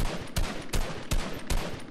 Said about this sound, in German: Ich schieß ihn gerade ab.